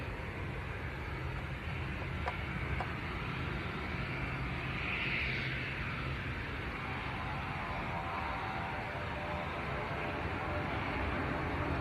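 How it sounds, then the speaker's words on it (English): Aer Lingus airliner departing Leeds Bradford Airport for Belfast, a steady broadband engine roar that holds loud throughout, with a brief whine swelling in the middle as it passes, heard from a distance outdoors. "Aer Lingus to Belfast next to go."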